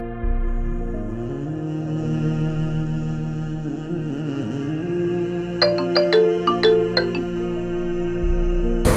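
Mobile phone ringtone playing loudly and steadily, a sustained melodic tune with a flurry of bright chiming notes near the end, heard alone without talk.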